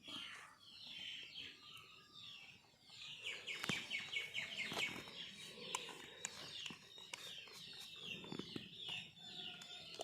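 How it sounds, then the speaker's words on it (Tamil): Chicken chicks cheep in rapid high-pitched bursts, several overlapping, with other birds chirping nearby and faint background rustling. "கோழி குஞ்சு கத்திக்கிட்டே இருக்குது."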